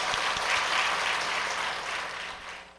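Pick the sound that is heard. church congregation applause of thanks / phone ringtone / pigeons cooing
church congregation applause of thanks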